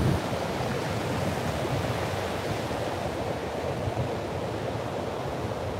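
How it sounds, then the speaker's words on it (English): Strong outdoor wind buffets the microphone in a steady, loud roaring rumble that runs the whole time with no voices. "The wind is louder, yes."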